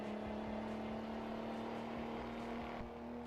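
A truck engine in Euro Truck Simulator 2 drones with a steady low hum and whir as it slowly builds speed, moderately loud and continuous.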